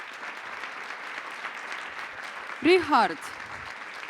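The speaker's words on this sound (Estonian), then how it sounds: "Nad väärivad väga suurt aplausi." Fashion show audience applauding the organizing team, steady continuous clapping across the whole span, with a voice calling out a name briefly over it.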